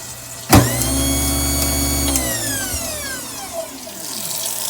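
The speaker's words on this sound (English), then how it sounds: "That is a powerful motor" A second-hand garbage disposal's electric motor switches on with a thump and runs as a loud, steady whine, then is cut off and spins down with a falling tone.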